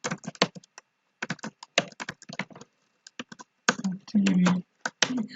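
Keys clack on a computer keyboard while a column vector is typed into MATLAB, arriving in quick bursts of close, crisp taps separated by short pauses, with one brief sustained sound near the end.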